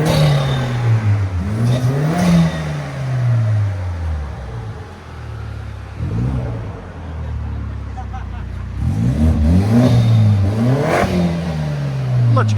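A 2018 BMW 530i with a 2.0L turbo engine and muffler delete revs repeatedly outside, loud throaty rises and falls in several bursts, with faint background voices.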